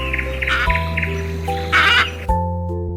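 A parrot squawks in two short, bright bursts over a bouncy children's music backing, with the tune carrying on steadily underneath.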